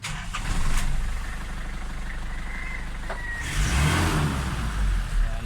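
A Nissan Frontier engine turns over and settles into a steady running idle that lasts throughout, with a brief rise in revs partway through. The sound is close and fairly loud.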